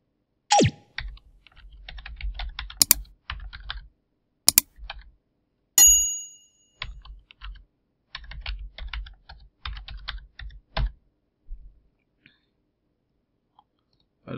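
Fingers typing an email address and password on a computer keyboard, close, crisp key clicks in quick bursts separated by pauses, with a few sharper clacks standing out and no talking.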